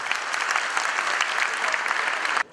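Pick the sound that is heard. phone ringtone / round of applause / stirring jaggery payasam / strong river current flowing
round of applause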